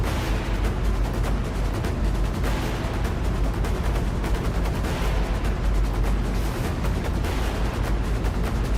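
Dense, continuous booming and crackling explosions, loud and unbroken like a sustained barrage of blasts, fill the whole stretch without any pause or voices.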